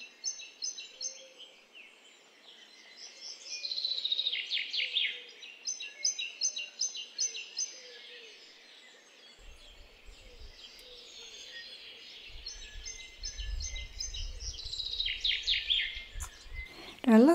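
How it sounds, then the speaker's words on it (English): Young grey tit calling at a garden bird bath, repeated high thin chirps and twittering phrases at moderate distance, with insect buzz and a low rumble in the background. "It is so wonderful to see this young grey tit enjoying my bird bath."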